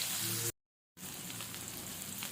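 Fish pieces sizzle and spit in hot oil in a pan, a steady broadband frying hiss with a brief gap of silence early on, then continuing close and loud without talk.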